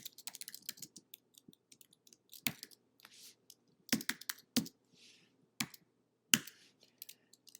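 Code is typed on a computer keyboard in irregular bursts of crisp, close clicks, with a few louder key strikes standing out against quiet gaps and no talking.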